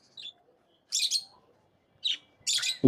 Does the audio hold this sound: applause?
no